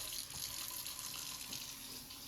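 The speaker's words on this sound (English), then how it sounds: "So we're just going to run the water." A kitchen sink faucet runs steadily after a leak repair, a constant hissing splash of water into the basin, close and continuous with no talk.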